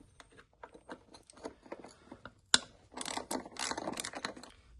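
Ratchet clicking in bursts while bolts come out of a carbon-fouled EGR on a 1.9 TDI engine, close and fairly sharp, with a loud metallic knock midway and busier ratcheting toward the end.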